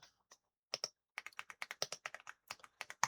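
Fast typing on a computer keyboard while looking up a card listing on eBay, with crisp, close key clicks that come in uneven bursts and short pauses and no talk.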